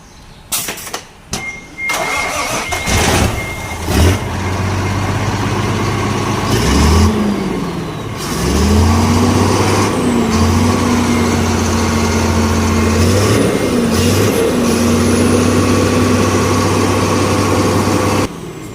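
Isuzu 360 truck engine after a clutch plate replacement, starting with a few cranking bursts, then idling loud and close with steady hum and slight rises in revs as gear is engaged, no talk.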